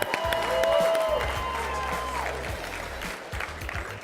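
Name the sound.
audience applause at a drink competition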